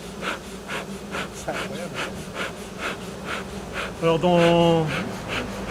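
A honeybee swarm resting on the ground hums steadily in pulsing waves close by, while someone speaks over it throughout in French.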